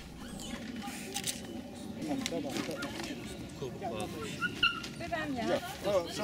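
An injured dog with skin lacerations and an eye infection whimpers and yips steadily through veterinary treatment, close and distressed, with people talking in the background.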